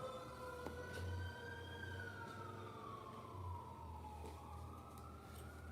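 A fire engine siren wails, rising and falling across the whole stretch, sounding somewhat distant over a low, steady background rumble. No one speaks.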